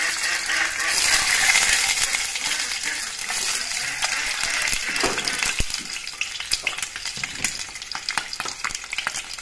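Eggs hit hot oil in a wok for an egg curry and sizzle loudly at first, then settle into a steady close frying hiss with crackles and scraping stirring clicks.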